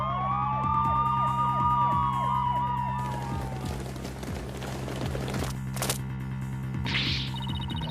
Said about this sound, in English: There are police cars outside? And not just one or two, but a whole bunch!